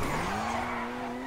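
A car skids and slides with a loud sustained tire squeal over a roaring engine in a parkour driving game, the pitch rising slightly through the brief slide.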